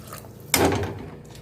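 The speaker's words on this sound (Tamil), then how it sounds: "நான் 1க்கு 2 தண்ணி சேர்க்குறேன்." Water splashes into a cooking pot for tomato rice with black chickpeas, a sudden loud pour starting partway through and gradually easing off over about a second, with no talk.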